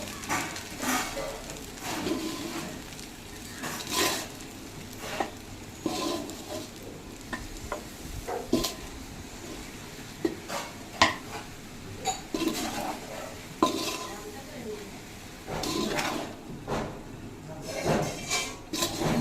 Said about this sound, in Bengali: ভালো করে ভাতের সাথে সয়া সসটা মিশাবো